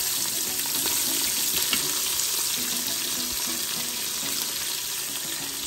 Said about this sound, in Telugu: సన్నగా పొడుగ్గా కట్ చేసిన ఆనియన్స్ వేస్తున్నాను